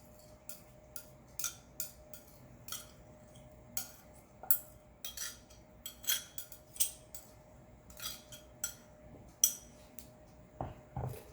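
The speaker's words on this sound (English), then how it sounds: "Let me just scrape the rest of this tomato sauce in there" Leftover tomato sauce is scraped from a container into a dish, heard as a series of short, close scrapes and clinks of utensil against the container in an irregular rhythm.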